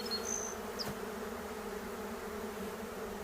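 A swarm of honeybees drones in hot weather, a continuous dense buzz with individual bees passing close now and then, heard alone without voices.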